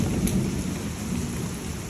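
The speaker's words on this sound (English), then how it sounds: "Look at the storm we just all of a sudden got." A sudden thunderstorm brings steady, loud rain with low rolling thunder rumbling throughout, a dense continuous wash of sound with no voices.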